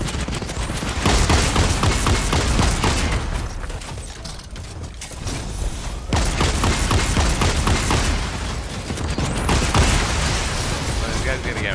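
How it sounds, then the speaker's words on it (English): A rocket slams into a mech during a four-mech battle in a video game. Loud, dense bursts of gunfire and heavy booms roll continuously, with short dips between the barrages. "Oh, I hit him hard with the rocket there"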